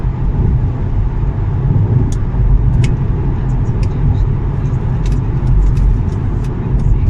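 Interior drone of a car with a 3.5-litre petrol engine converted to LPG, driving steadily with continuous broadband road and engine rumble, loud and constant throughout, with faint brief clicks above it.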